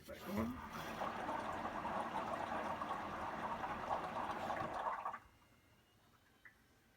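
Water drains through a Drummond transfer pump emptying a water heater, a steady rushing flow with mechanical hum that stops suddenly near the end, leaving quiet room noise.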